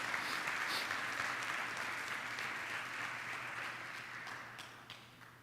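A large church congregation applauds steadily, a dense wash of clapping that slowly fades a little toward the end.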